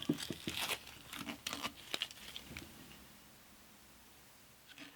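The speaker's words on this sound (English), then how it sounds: "And I'll take all this grubby masking tape off." Grubby masking tape peeled off an acoustic guitar in a workshop: close, faint crinkling and tearing pulls in quick bursts, fading to quiet after a few seconds with one last rustle at the end.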